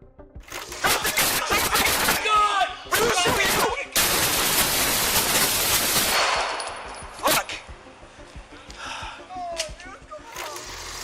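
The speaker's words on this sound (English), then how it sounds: "Both officers then fire, as shown in police footage." Police officers open fire in a burst of loud, sharp gunshots cracking in quick succession, followed by a quieter stretch with scattered noise and a few isolated bangs.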